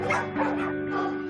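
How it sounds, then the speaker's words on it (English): A fearful shelter dog gives a couple of quick, close barks and yips over a steady background hum, all within about a second. "her barking has pushed potential adopters away while also provoking other dogs"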